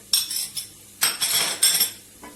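A metal tablespoon clinks and scrapes against a pot while a mix of homemade pepper and tomato paste goes into okra soup, bright, close clatters arriving in a few quick bursts.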